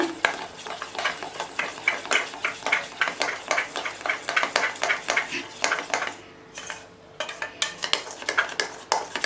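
Locho batter, with Eno just activated by a splash of water, is stirred briskly in one direction, a steady fast rhythm of spoon scrapes and taps against the bowl, loud and close, briefly pausing before resuming.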